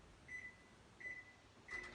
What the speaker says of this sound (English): now you're gonna just put it in the microwave